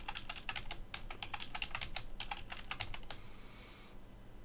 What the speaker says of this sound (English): So now I'm going to enter my new password.